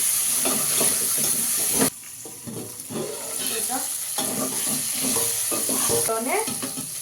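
Okra frying in a pan as it is stirred, with bright hissing sizzle and repeated spatula scrapes and clatters, the hiss dropping and returning between bursts of stirring, close and fairly loud.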